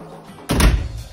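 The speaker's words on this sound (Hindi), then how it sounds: "दरवाजा बंद कर दिया" A door shuts with a single close, solid thump in a home kitchen, preceded by faint room tone and followed by a short fading rumble.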